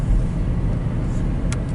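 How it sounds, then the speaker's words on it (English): A CN truck passes near a rail yard in Port Huron, giving a steady road rumble with engine and tire noise throughout, fairly loud and close. "Hey, this is a CN truck."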